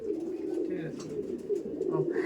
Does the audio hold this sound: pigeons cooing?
yes